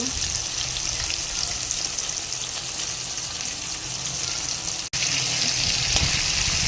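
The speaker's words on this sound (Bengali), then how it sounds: "মাছ ভাজা হচ্ছে" Fish sizzles steadily in a pan for a Bengali mustard-poppy fish curry, a dense continuous frying hiss with a brief cut near the end before it resumes.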